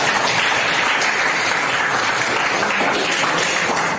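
Applause from a class at a persuasive-speech practice session fills the whole stretch, a steady, dense clapping from many hands with no voices on top.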